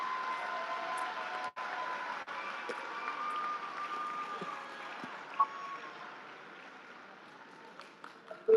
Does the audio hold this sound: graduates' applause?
yes